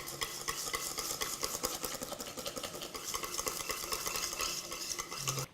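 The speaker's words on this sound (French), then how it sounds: "je vais le fouetter" Peach coulis being whisked into mascarpone in a bowl, a steady busy scraping and clinking of whisk against the bowl for several seconds, close and continuous with no talk.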